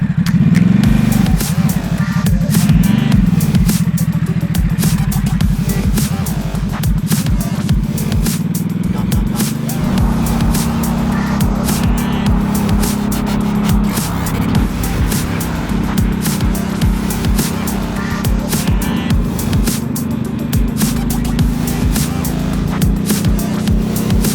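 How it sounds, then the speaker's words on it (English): A Ducati SuperSport motorcycle is ridden hard on a race track, its engine note loud and continuous, rising and falling steadily through the whole stretch with no pauses. "Great to get out on the track and ride this bike."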